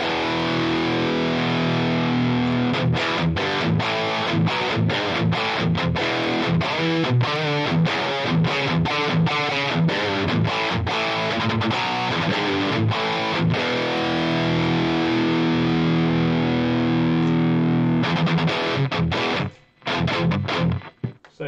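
Heavily distorted electric guitar through a Rectifier amp simulation plays loud, continuous chugging riffs with rhythmic palm-muted stabs and sustained chords, cutting off abruptly near the end, with no talking.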